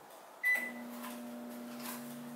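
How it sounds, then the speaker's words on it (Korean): A microwave oven heating a covered dish of Korean steamed egg custard with salted shrimp, starting with a click and then settling into a steady low electric hum that runs on alone. "뚜껑 덮어서 전자레인지에 넣겠습니다"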